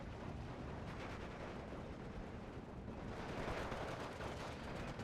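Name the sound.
50 mm mortar fire in video game Steel Division 2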